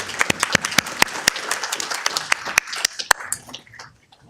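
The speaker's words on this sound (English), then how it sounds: "Let's give them a round of applause, guys." Audience applause in a city council chamber after a Girl Scout troop leads the Pledge of Allegiance, a scattering of sharp individual claps over a soft wash that thins and fades out near the end.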